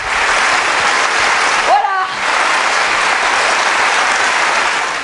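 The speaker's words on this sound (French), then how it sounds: "Et on va tous applaudir, parce qu'il faut l'applaudir d'être là, que ce soit fort." Large outdoor crowd at a memorial rally for young accident victims applauding loudly and continuously, a dense roar of clapping with a brief shout partway through.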